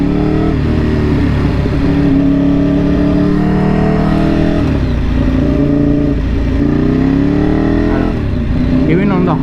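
Motorcycle on a road, loud and close, its engine droning with repeated rising pitch sweeps as it accelerates through the gears, under steady wind noise.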